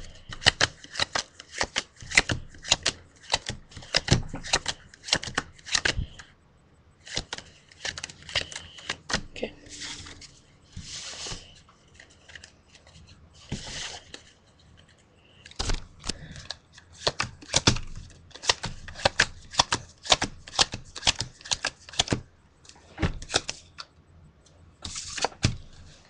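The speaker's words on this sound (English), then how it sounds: "Shuffle the deck. Shuffle the deck a little bit." A deck of playing cards being shuffled repeatedly, with bursts of rapid riffling flutters and snaps separated by short pauses, close and loud, with occasional quiet talk.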